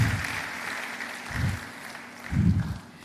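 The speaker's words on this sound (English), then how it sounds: "give her another round of applause as she takes her seat" A lecture audience at the central bank governor's annual lecture series applauds as a guest takes her seat, a soft, distant wash of clapping with a few low thumps beneath it.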